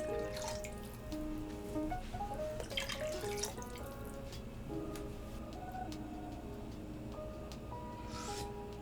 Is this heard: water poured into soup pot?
yes